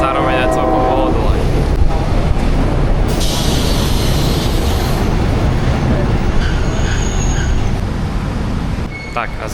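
A passenger train heading into central Bangkok rumbles loudly and continuously from inside the carriage, with brief wheel squeals and a voice talking over the steady roar.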